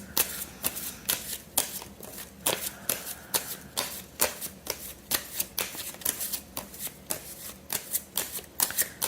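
A standard playing card deck is shuffled during a tarot-style card reading: a fast, steady run of crisp riffling bursts, about two each second, close and fairly quiet, with no voices.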